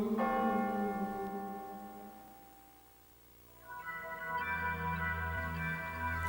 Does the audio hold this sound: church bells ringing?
yes